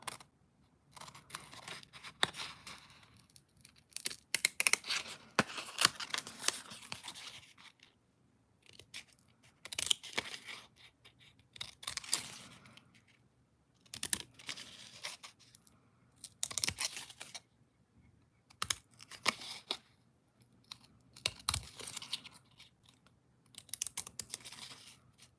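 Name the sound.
scissors snipping out paper star shapes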